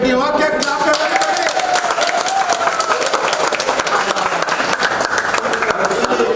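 A group of trainees claps hands together at the close of an electrical training session at NIE Mysuru, steady dense applause lasting throughout, with a voice briefly heard over it.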